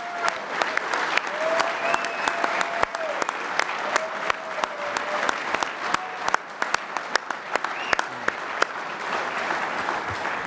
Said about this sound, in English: ask for one last round of applause for our 8 honorees tonight